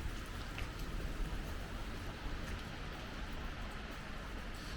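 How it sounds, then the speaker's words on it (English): Rain falls on a grey day in central Stockholm, around Central Station and Rådhuset, heard while walking: a soft, even hiss of drops that stays faint and constant throughout. "Still grey and rainy,"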